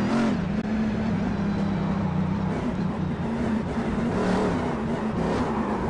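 Simulated race car engine from the iRacing game on a lap of Pocono, a steady loud drone holding near-constant pitch throughout with a slight rise toward the end, with no talk over it.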